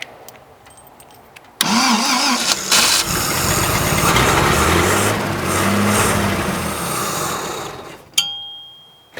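A 1930s De Soto engine cranks and catches, then runs loud and rough at idle for several seconds before cutting out abruptly as its last fuel runs dry.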